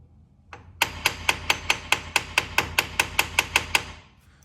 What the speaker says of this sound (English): So you grab an extremely clean hammer and very lightly, just to make this seat properly.